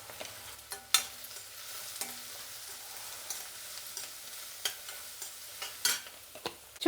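Onions fry in a pan with turmeric, giving a quiet steady sizzle broken by sharp clicks of stirring and scraping at irregular intervals, with no talking.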